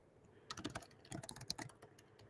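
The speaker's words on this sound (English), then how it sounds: "As Dan's furiously typing away here" Fast typing on a computer keyboard, quiet and close, with irregular bursts of crisp key clicks in quick clusters and short pauses between them.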